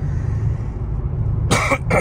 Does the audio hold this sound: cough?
yes